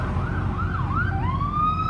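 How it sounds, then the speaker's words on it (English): An ambulance siren wails in rising and falling sweeps, steady and fairly loud over low road rumble, with no talk. "Hey, look. There's an ambulance."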